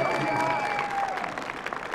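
Audience applause at a fall university commencement ceremony, a steady patter of clapping from a crowd in a large hall that thins and fades toward the end.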